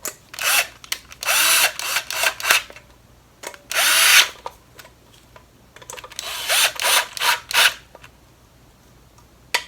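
A power drill drives bolts onto a water pump on a Lexus IS250/IS350-family engine, sounding in several loud, close whirring bursts of a second or so each, separated by short pauses of quiet workshop handling.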